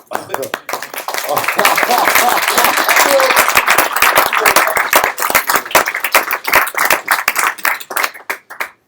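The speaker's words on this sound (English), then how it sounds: "That deserves an applause" Audience applause fills a lecture room after a mentorship talk on coyote teaching, dense clapping that swells loud and steady, then thins into scattered claps near the end, with voices murmuring underneath.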